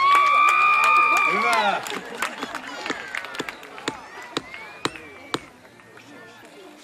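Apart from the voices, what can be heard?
crowd clapping and cheering at medieval horse tournament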